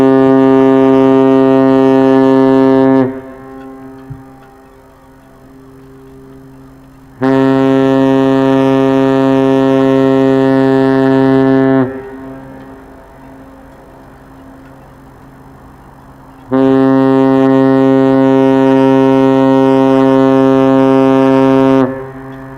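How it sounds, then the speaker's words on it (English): A deep, loud ship's horn from the MSC Virtuosa cruise ship departing the Port of Southampton sounds three long blasts, each several seconds long, separated by quiet gaps with faint harbour background. "3 honks means she's going back."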